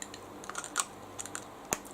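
Something loose rattling inside a cosmetic pump bottle: close, quick, irregular little clicks and taps in short bursts, with one sharper knock near the end.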